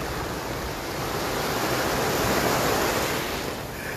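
Ocean waves break on a beach in a loud, continuous roar of surf and foam, steady throughout with a slight swell in the middle and no voices.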